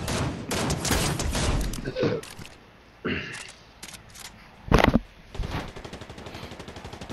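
Fortnite gunfire crackles in quick bursts and rapid volleys, loud and sharp, with short gaps between clusters of shots and a steady trailing rattle at the end.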